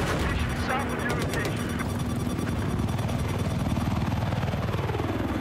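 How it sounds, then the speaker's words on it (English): An enemy attack helicopter flies over a battlefield in Battlefield 4, its rotor pulsing steadily through dense gunfire and explosions, with radio voices talking over the din. "Enemy chopper spotted."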